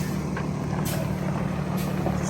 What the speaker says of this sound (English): Y'all hear that noise? That is a tractor over there in that mysterious property.